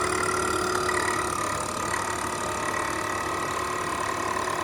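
A Profi Cook PC-VK1080 vacuum sealer running on turbo, giving a constant, steady motor drone with an even pitch that holds unbroken throughout, close and fairly loud.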